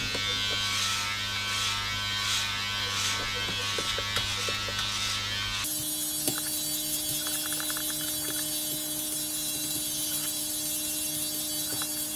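Electric body trimmer set to 4 mm cutting leg hair, a steady close buzzing hum that shifts in pitch midway as the blade moves over the skin, with no talking.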